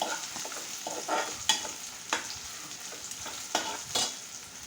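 Vegetables for a vegetable biryani being stirred as they fry in a pan, giving a soft, steady sizzle broken by several scraping strokes of the spoon, with no talking.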